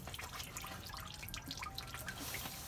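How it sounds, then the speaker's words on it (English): Water squeezed from a wet paper pulp puck, falling as quick scattered drips and a soft continuous trickle, close and fairly quiet, with no talking. "So I pull down to squeeze as much water out of here as I possibly can."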